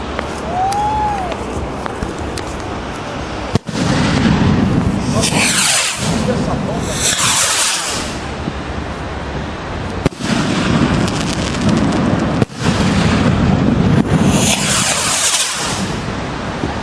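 Fireworks battery going off in Boracéia for New Year, a dense, loud rumble of bangs and crackling bursts with several sharp thumps, heard close over a continuous roar while people talk nearby.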